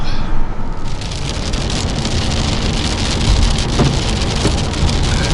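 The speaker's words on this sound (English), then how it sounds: "Here comes the rain." Heavy rain pours down steadily in a dense, loud hiss of drops hitting surfaces, with no pauses.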